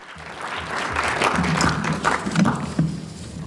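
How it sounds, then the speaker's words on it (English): A crowd at an evening awards and grounding ceremony gives a sustained round of applause, dense clapping swelling and holding with a few louder claps near the end and no talk. "give just one more round of applause for these folks this evening"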